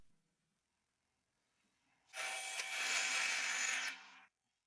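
An oak offcut is cut to size, giving a close, steady harsh buzzing cut of about two seconds that starts abruptly and stops cleanly after a quiet stretch.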